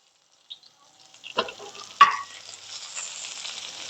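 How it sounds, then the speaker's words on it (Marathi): Garlic cloves and red chilli are dropped into hot oil for a tempering, giving a few sharp pops and then a soft, fairly faint sizzle that continues without talk. "लसणाची खमंग फोडणी एक पंधरा वीस पाकळ्या लसणाच्या घ्यायच्या त्यानंतर लाल मिरची घातलेली आहे"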